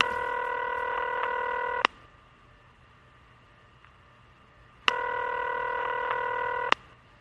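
A telephone number is dialed as two bursts of steady touch-tone DTMF tones, one long run and then a shorter one after a pause, clear and close with no voices.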